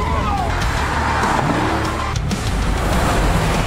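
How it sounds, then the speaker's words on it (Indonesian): Cars in a movie car chase roar past at speed, with engine revving, a whooshing pass and brief tire squeals, dense and loud throughout under a dramatic mix. "Di luar, sejumlah anak buah Tejo mulai melakukan pengejaran dengan mobil"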